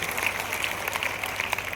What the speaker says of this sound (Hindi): मैं चाहूंगा आपके लिए जोरदार ताली आप सबकी तरफ से बननी चाहिए।